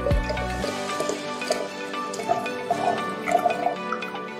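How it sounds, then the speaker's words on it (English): Liquid for a pandan panna cotta pours through a sieve, a steady close trickle with soft dripping and splashing that runs for several seconds after an initial low thump. "we will need to pour this through a sieve to remove all the sands if there is, right? So I'm going to pour this out."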